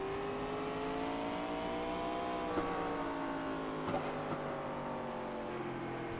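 Heard from on board, an SRX race car circles Langley Speedway with a steady, droning engine note whose pitch sways gently as it laps, loud and continuous, with a few faint knocks and clicks.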